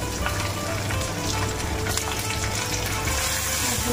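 Ginger and garlic sizzle and fry in a masala paste in a pan, with a steady, close, continuous crackle that keeps going throughout with no voices.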